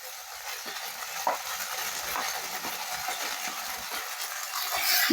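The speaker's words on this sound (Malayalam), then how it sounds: "ഇതൊന്ന് നന്നായി ഇളക്കി കൊടുക്കുക" Egg crumbs and semiya vermicelli are stirred together in a hot pan, giving a soft continuous sizzle with scattered light scraping taps from the spoon, nearby and fairly quiet, with no voices.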